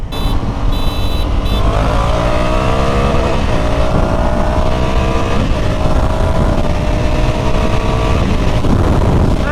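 A 2020 Honda Africa Twin Adventure Sports motorcycle accelerates hard, its loud, close engine note climbing steadily through rising gears with no talk over it.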